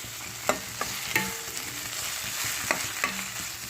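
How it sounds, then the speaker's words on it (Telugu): Amaranth leaf curry with green chillies fries in a pan, a soft steady sizzle broken by several scraping stirs of a spoon against the pan, close and fairly quiet with no voices. "ఇది బాగా కొంచెం పచ్చివాసన పోయే వరకు వేగించేస్తే"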